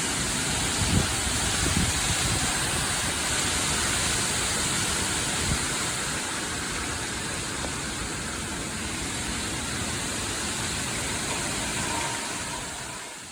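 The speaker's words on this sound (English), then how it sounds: "Now, we did have a very huge rain yesterday." Heavy rain pours down hard and steady over a garden bed, a dense, continuous hiss with low rumbling texture that stays loud and unbroken throughout with no voices.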